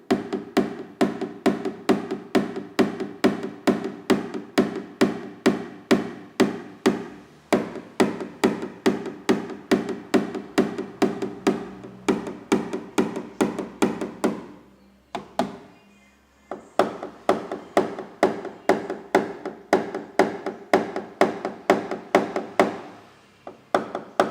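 A body-repair hammer taps steadily at a dented car panel, paintless dent repair. Rapid, evenly spaced metallic knocks run close and loud, pause briefly near the middle, then resume at the same brisk rhythm.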